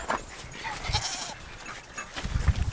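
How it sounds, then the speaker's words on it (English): Goats bleating close by on a small farm at feeding time, a couple of short nasal calls with shuffling and movement in between, no talking. "And go feed the goats."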